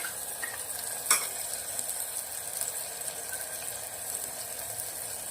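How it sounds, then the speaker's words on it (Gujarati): Soaked masala for a Rajasthani dal masala sabji tipped into a hot pan with tomatoes, bringing a soft steady sizzle, one sharp clink of a utensil and light stirring scrapes. "એ આપણે મસાલો નાખી દઈશું."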